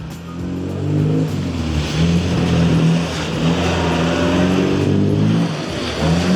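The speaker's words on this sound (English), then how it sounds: "Really working the gears, the engine, keeping that handbrake on, the front wheels spinning up nicely" A Mini's engine revs hard and loud with the handbrake on, its pitch rising and falling in waves as the front wheels spin, with a rough, continuous roar, at a motor show.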